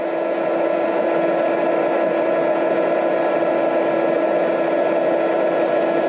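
A heat embossing tool blows hot air over silver embossing powder on a card, making a steady, even electric whir that runs unbroken and alone throughout.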